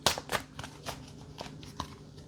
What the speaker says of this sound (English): I'm going to pause this while I shuffle